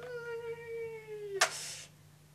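A cat gives one long, sad, slowly falling meow, soft and close, followed by a short burst of breathy noise, with a faint low hum throughout.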